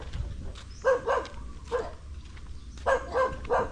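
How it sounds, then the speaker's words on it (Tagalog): A dog barks in several short bursts, a pair of barks then a single one and then three more, fairly near and clear above a low rumbling background, with no talking. "Kaso may aso, lalaki."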